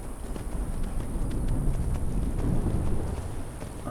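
Horse hooves clip-clop in the video game Skyrim, a quick run of sharp knocks over a low, rumbling game backdrop. The hoofbeats are moderately loud and close, and no one speaks.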